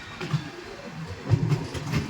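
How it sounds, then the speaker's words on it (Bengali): The 13151 Jammu Tawi Express rolls into Parasnath station with low rumbling and soft, irregular wheel clatter, muffled and steady, with no talking. "13151 জম্মু তাওয়াই এক্সপ্রেস এখন এসে পৌঁছে গেল পরশনাথ"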